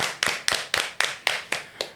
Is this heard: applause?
yes